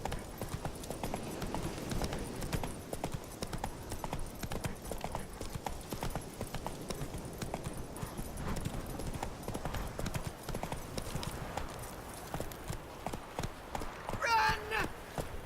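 A horse gallops in The Witcher 3, its hooves pounding in a fast, steady, close rhythm throughout, with a brief horse whinny near the end.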